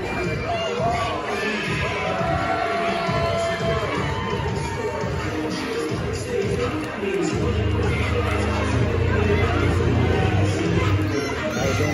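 Indoor independent wrestling crowd jeering a heel: a continuous roar of many voices with shouts and scattered yells, fairly loud and steady, with a low rumble building toward the end and commentary talking over it.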